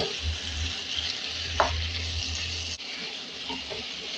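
Chicken sautés in a pan for tomyam, a steady close sizzle with a low rumble beneath, one sharp clank of a utensil partway through and a brief shift in the hiss near the end.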